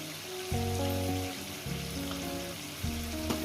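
Chicken fries in a pan with spices, a steady close sizzle broken at regular intervals by several brief clattering stirs, with no talking.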